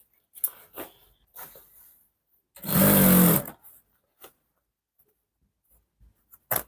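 An electric sewing machine stitches the collar of a Bubu gown in one loud burst of about a second, set among quiet handling taps and clicks near the machine.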